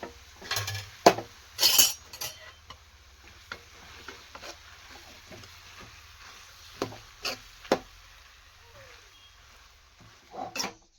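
Potato sandwich masala being stirred in a bowl, with scattered clinks and scrapes of a spoon against the dish, brief and irregular over a quiet background.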